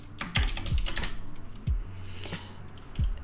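Keys on a computer keyboard are typed in a short burst, several quick close clicks with uneven gaps and small pauses, fairly quiet and heard alone without talk.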